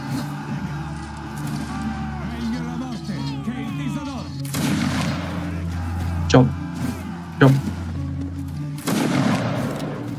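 Musket volleys and scattered gunfire in a video game line battle between Italian and French regiments, with sharp bursts near 4.5, 6.4, 7.4 and 9 seconds over continuous voice chat and game ambience.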